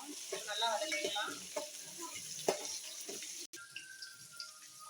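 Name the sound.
small onions sautéing in a pan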